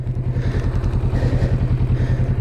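A Kawasaki Vulcan S motorcycle rumbles close by with a steady, low, pulsing engine beat while riding, plus some light clatter and no voices.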